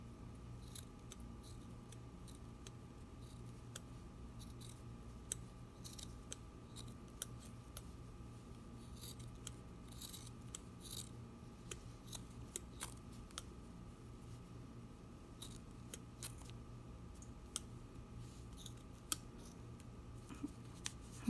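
Sharp scissors snip repeatedly through a t-shirt, giving many small crisp cuts at an uneven pace, faint and close in a quiet room with no talking.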